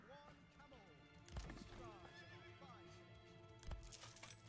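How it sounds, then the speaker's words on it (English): A horse in the video game Manor Lords whinnies loudly and clops away, its neighs rising over a snowy village soundscape, with voices present in the mix and two sharper neighing bursts standing out. "Oh no, my horse! Why did my horse run away?"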